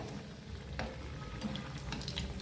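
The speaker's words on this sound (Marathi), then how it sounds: "आता ही वरची साईट आपल्याला छान तळून घ्यायची बघा" A potato and semolina snack fries in a pan, turned to cook its upper side, with a soft continuous sizzle and light crackles close by.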